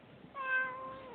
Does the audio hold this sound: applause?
no